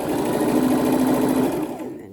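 A sewing machine sews rows of a double wedding ring quilt together, a close, steady motor whir with rapid needle rhythm that slows and winds down near the end.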